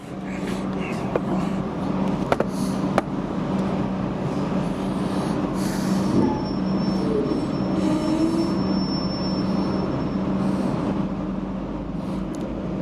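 V/Line Geelong passenger train 8775, hauled by N475 and N465 with SSH26 car sets and Y129, departs Geelong station with a steady rumble of wheels on rails, intermittent wheel squeal and clanks, loud and close throughout.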